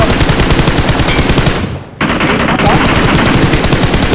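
Rapid automatic gunfire in a battle royale game, loud and continuous, pauses briefly for under half a second and then resumes just as dense, with players' voices faintly mixed in.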